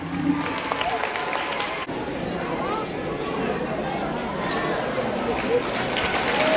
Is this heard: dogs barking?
no